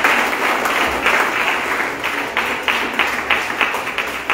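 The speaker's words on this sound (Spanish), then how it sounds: "Dale un aplauso a Él" A church congregation at an annual fellowship gathering in Basuchil, Chihuahua, claps together in a loud, dense wash of applause that pulses with a faintly rhythmic beat, with no speech.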